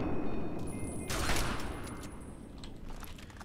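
Rapid gunfire in the video game Fallout 3, a loud burst of shots and crackling reports fading into lighter scattered echoes, with no speech.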